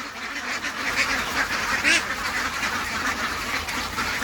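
Ducks on a duck farm quack repeatedly in a noisy, busy chorus, with a brief louder squawk midway and no speech.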